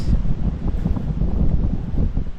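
Steady gusting wind buffets the microphone, a dense low rumble with rising and falling surges and no voices.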